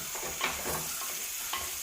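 Beef curry with onion and potato stirred in a pan, a spoon scraping in soft irregular strokes over a faint steady sizzle, close by with no voices.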